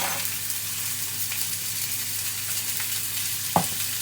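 British sirloin steak frying in oil in a pan, a steady close sizzle and crackle throughout, with one brief clink near the end.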